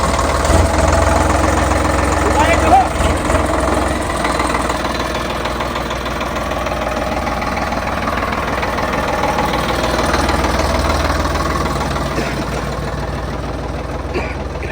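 A tractor engine idling close by during a village challenge contest, a steady loud diesel rumble with knocking vibration throughout, no pauses.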